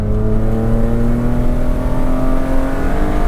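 BMW E36 M3 engine revving steadily as the driver downshifts with a notchy shifter, a loud, close, sustained drone with rising harmonic tones and no talk over it.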